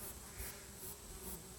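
Faint buzzing of bees flying outdoors during a walk, a thin steady drone with a few slightly louder passes, quiet and somewhat distant.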